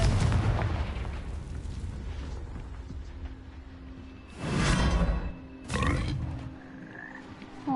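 Confringo explosion spell in Hogwarts Legacy: two sharp blasts burst out a second apart, each a loud whooshing boom with crackling tail, over a low rumbling game ambience.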